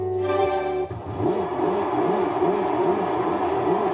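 Panoz Esperante GTR-1 race car in Gran Turismo 3, its engine giving a throaty, pulsing idle with rhythmic swells after a brief higher tone at the start, steady and close with no talking.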